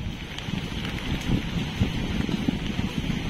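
Strong super typhoon wind at the shore in Dinahican, Infanta, Quezon, buffeting the microphone in a continuous low roar with gusty surges, mixed with surf, no voices.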